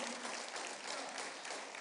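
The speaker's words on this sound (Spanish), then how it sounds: "Denle un aplauso al Rey de Reyes." A church congregation applauds during a Spanish-language service, a dense steady wash of clapping that sounds somewhat distant and fairly quiet, with no voices over it.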